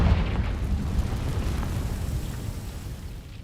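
A Confringo fire spell explosion in Hogwarts Legacy bursts as a deep, rumbling boom that rolls on and slowly fades over a few seconds, with no voices.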